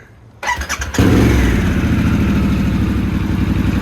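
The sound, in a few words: motorcycle engine starting and idling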